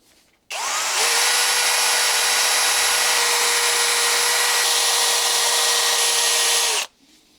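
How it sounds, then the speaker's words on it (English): Power-driven wire brush scrubbing hard carbon deposits off the valves of a seized Volvo 66 (DAF 66) engine, a loud, steady whirring grind running continuously for about six seconds, starting and stopping abruptly. "I'm just gonna clean them up a bit while they're still in there with a wire brush"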